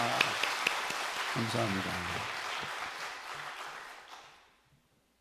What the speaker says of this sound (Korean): 우리 하나님께 다시 한번 큰 박수 한번 드려봅시다